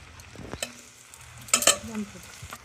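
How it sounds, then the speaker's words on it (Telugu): Odisha-style potato bharta with onions, curd and salt mixed in a bowl, giving soft, wet stirring and squelching strokes, close and fairly quiet, with a couple of louder clinks of the spoon. "వేసాక బాగా అన్నిటినీ చక్కగా కలుపుకోవాలండి"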